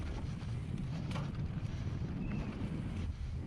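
Strong wind roars across the microphone on a downhill racing track in Sao Bras de Alportel, Portugal, a constant heavy buffeting rumble with no break, loud and close.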